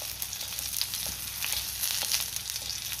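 Green chillies frying in hot oil in a pan, producing a continuous bright crackling sizzle with small pops and occasional stirring, close and steady, with no voices.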